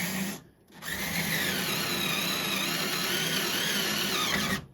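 A power drill whirs continuously into an arcade cabinet during a Kangaroo to Dig Dug conversion, a loud, close, steady drone that starts after a brief pause and runs for several seconds before cutting off.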